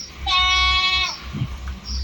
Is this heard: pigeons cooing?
no